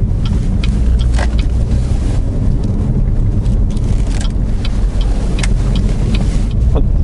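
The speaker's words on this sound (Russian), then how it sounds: "Машина резко подрывается и никаких претензий с точки зрения динамики." A Chevrolet Malibu with about 25,000 on the odometer pulls away sharply under light throttle. From inside the car, loud engine and road noise hold steady throughout, with no talking.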